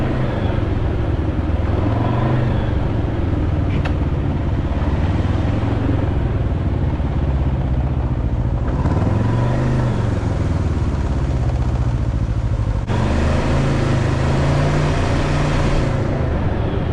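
A Can-Am Ryker three-wheel motorcycle cruises on a road by a lake, with a continuous engine drone and wind rush, loud and close, the pitch rising and falling with throttle changes.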